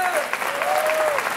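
Audience applause at a comedy show, a brief burst of dense, close clapping with a faint tonal whistle-like line running through it.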